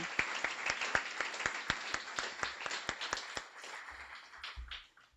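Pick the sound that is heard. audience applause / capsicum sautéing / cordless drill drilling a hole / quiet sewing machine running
audience applause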